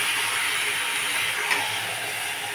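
Marinated chicken is added to a hot pan and sautés with a loud, steady sizzling hiss, close by, and one brief clatter partway through.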